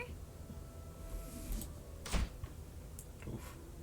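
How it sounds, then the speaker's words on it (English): A door shutting hard, nearly slammed, lands as one sharp loud knock in the middle of a quiet room-tone stretch, followed by a few faint clicks. "The door seemed a little loud. It made me think it was like slammed for a second."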